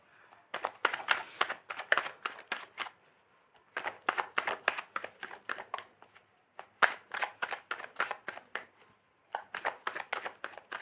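Tarot cards being shuffled by hand in quick, crisp riffling bursts, close and fairly quiet, with short pauses between rounds and no talking.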